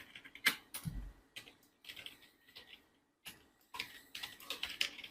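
Irregular bursts of computer keyboard typing come in short clusters of clicks with a brief pause midway, close and fairly quiet.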